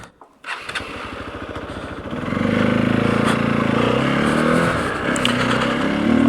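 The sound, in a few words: motorcycle engine revving through its stock exhaust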